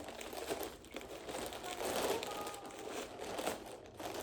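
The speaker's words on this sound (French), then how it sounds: "on t'entend pas beaucoup, on ouvre des colis." Packaging crinkles and rustles close by as parcels are opened, in irregular bursts of soft plastic and paper noise.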